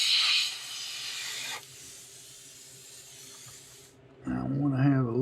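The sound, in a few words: airbrush spraying paint onto a stencil on a craw lure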